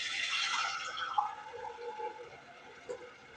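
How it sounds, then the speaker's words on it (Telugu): Mashed cooked lentils (dal) being poured into a pot for hotel-style sambar, giving a soft, wet, sloshing pour that starts fuller and slowly thins and fades. "ఆ పప్పుని అయితే మెత్తగా చేసుకొని పోసుకుంటున్నాం"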